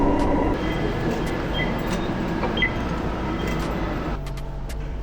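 An MRT train rolls along its rail line with a loud, steady rumble and hiss, the running noise changing slightly partway through, heard from on board with no talking.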